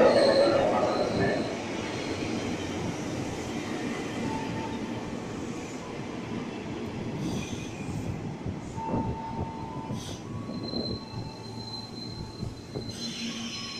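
Commuter train rolling into Mangga Besar railway station in Jakarta, a loud continuous rumble of wheels with squealing rail noise and clatter, steady and close throughout.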